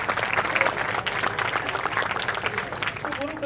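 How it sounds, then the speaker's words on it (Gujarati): An audience at a school annual function applauds steadily and loudly, a dense wash of many hands clapping that carries on without a break from start to finish. "આપણે તાળીઓથી વધાવીશું."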